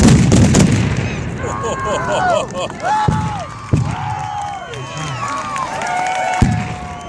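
A Civil War reenactment battle, with a Confederate artillery battery firing a barrage: sharp booms going off one after another over crowd noise, with a voice talking throughout.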